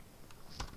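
A single Ctrl+V keystroke on a computer keyboard during a data science lecture: one short, sharp click near the end, faint over a quiet room background.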